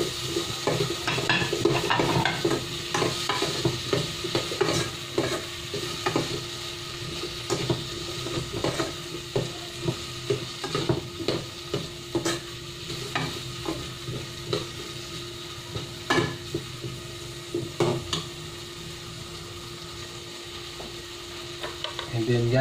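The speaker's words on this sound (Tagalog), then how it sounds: "yung patatas, i-gisa na natin para medyo lumambot." Potatoes sauté in a pan for afritadang dalag, with a steady sizzle and repeated stirring and scraping strokes, close and fairly loud, with no talking.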